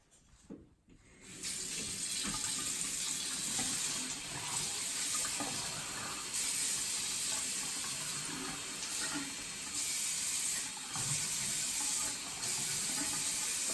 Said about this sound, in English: Next, I'm going to add 2 cups of warm water.